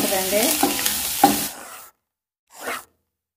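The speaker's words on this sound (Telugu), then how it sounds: "పోపు వేగిపోయింది, కరివేపాకు వేసుకుందాం." Curry leaves sizzle as they drop into a ghee tempering of mustard and cumin, a loud crackling burst with stirring that cuts off abruptly, then a short second hiss after a brief silence.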